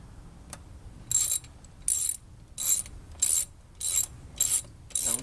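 A ratchet with a 10mm socket tightens valve cover bolts, giving seven short, sharp clicking bursts at a steady rhythm, close and clear, with quiet pauses between them.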